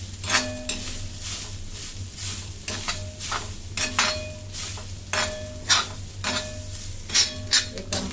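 Coconut masala for Malvani mutton is sautéed in a pan, repeated metal spatula scrapes and clinks in an irregular rhythm over a low steady sizzle, close and fairly loud.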